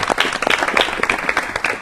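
An audience claps in sustained applause at an event broadcast by DD Rajasthan, a dense steady patter of many hands heard alone, without talk.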